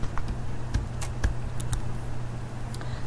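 Keystrokes on a computer keyboard while entering terminal commands, a few sparse, fairly quiet clicks spread over a steady low background hum.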